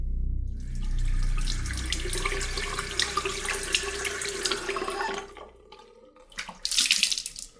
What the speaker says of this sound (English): In the bathroom, he splashes his face with water